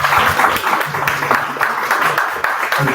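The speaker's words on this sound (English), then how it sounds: "please clap" An audience claps in a dense, continuous patter that fills the whole moment, fairly loud and close, with a few sharper individual claps standing out.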